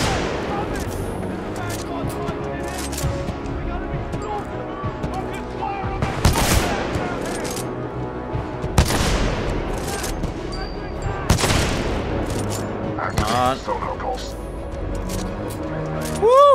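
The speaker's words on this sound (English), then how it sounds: "Commander supporting fire." A titan lays down supporting gunfire in Titanfall 2, with rapid automatic bursts and heavy impacts repeating through a long stretch of combat, while voices talk over the action.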